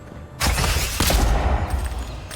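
Pistol shots in the Avowed video game: two sharp loud reports about half a second apart, each with a ringing tail, followed by softer game ambience.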